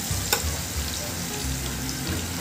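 Marinated chicken frying and sizzling in hot oil for a Filipino-style chicken biryani, a steady close crackle with a brief sharper pop early on, no voices.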